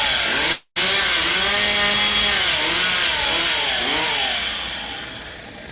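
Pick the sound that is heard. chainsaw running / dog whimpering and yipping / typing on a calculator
chainsaw running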